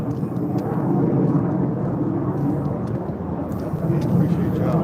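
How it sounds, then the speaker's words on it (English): A loud, steady roar of an airplane passing overhead, a broad rumbling drone that fills the whole stretch without fading. "Kind of wait till this plane go by, kind of loud."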